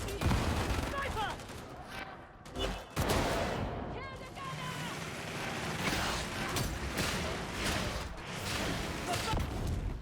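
Enemy sniper gunfire in Warhammer 40,000: Darktide, sharp shots cracking amid a dense, continuous wash of battle noise and rumble, loud and close, with no speech.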